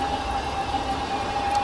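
Haarburg-Pendel train in Train Simulator passing at 160 km/h, a steady rushing rail roar with a sustained whining tone throughout, no speech.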